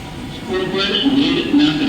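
An Indian Railways local train at a station platform gives a steady rumble with squealing, tonal wheel or brake whine for about two seconds, and faint muffled voices or an announcement blend into the background.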